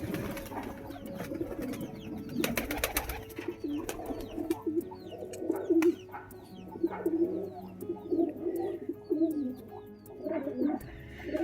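Domestic pigeons, including Rajshahi birds, coo repeatedly in soft rolling phrases close by, with a few faint chirps and steady low background noise and no talking.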